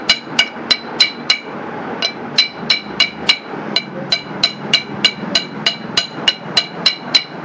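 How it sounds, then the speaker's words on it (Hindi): A hammer taps punch marks around the bearing seat of an electric ceiling fan to tighten it. About twenty sharp, evenly spaced metallic strikes ring out close by in a steady rhythm. "इस प्रकार थोड़े से टीचे लगा देते हैं, जिससे कि इसके अंदर बेयरिंग टाइट हो जाएगा।"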